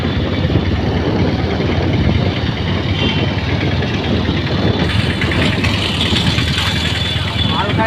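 A motorbike engine idling nearby during a Durga Puja outing, a loud steady low rumble with continuous mechanical chatter and no breaks.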